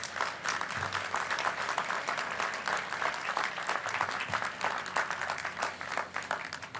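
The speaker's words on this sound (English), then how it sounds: "Let's give them a round of applause." An outdoor crowd at a streetcar grand opening celebration gives sustained applause, a steady, moderately distant wall of clapping that holds evenly for several seconds.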